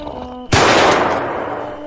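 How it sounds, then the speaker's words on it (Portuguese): A single loud gunshot effect in a spoken werewolf tale set in the woods, an abrupt blast that rings and echoes away over nearly a second and a half, with no talk. "Aquele pipoco ecoou pela mata."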